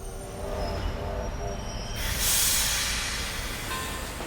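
A train moves along the tracks with a continuous low rumble and a high wheel squeal or hiss that swells midway, steady and fairly close, with no clear voices.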